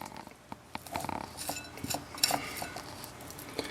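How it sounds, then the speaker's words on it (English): A knife works through the fat on a rack of pork ribs at a backyard barbecue, producing soft scraping and light clinks of cutlery against a board, close and fairly quiet, with no talking. "Just slice right through the fat portion of it."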